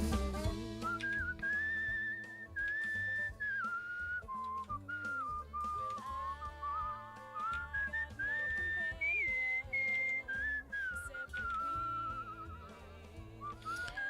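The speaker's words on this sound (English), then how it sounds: "Pretty good at this whistle and malarkey." A melodic whistled tune from the video game Where The Water Tastes Like Wine, loud and continuous with held and gliding notes over a steady musical backing, no talking.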